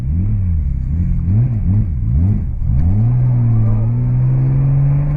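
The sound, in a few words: H6-swapped Subaru Legacy accelerating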